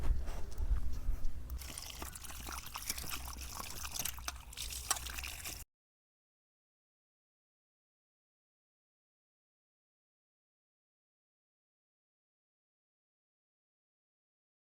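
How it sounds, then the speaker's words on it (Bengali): Peeled potatoes being washed in water, a steady splashing and trickling close by for about five seconds, then silence. "চলুন আলুগুলোকে ভালোভাবে ধুয়ে নিই।"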